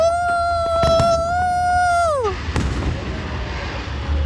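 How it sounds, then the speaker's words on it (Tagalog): Fireworks go off as a long whistling rocket rises with a steady tone that drops at its end, followed by sharp bangs and crackling bursts, loud and close against background noise. "Ang ganda ng mga fireworks nila mga kalibot suroy."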